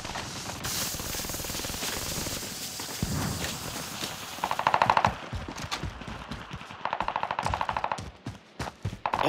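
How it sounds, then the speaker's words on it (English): Rapid machine gun bursts in a first-person shooter game, with repeated short volleys toward the end over a busy backdrop of game effects. "Taking fire. I'm under fire."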